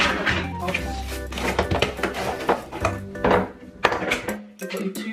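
Tefal Ingenio stackable pots handled during unboxing give a run of close knocks, clinks and hollow thunks of pans set down and shifted, irregular and busy across the stretch.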